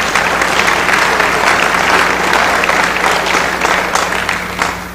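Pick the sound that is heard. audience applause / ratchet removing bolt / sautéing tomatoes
audience applause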